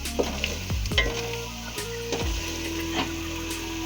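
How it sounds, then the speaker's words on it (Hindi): Meat frying in spiced masala with beetroot in a pot, a loud steady sizzle broken by several scraping stirs and clunks of a spoon, close up with no talk. "हमने मसाला भून चुके हैं, अब हम इसमें ऐड करेंगे गोश्त।"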